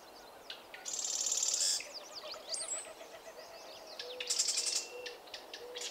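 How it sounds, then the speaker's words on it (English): A sora rail calls from a dense stand of cattails in a marsh, close and clear, giving bursts of buzzy, rapid notes and descending whistled phrases against soft background birdsong. "a sora begins calling again, very close to me"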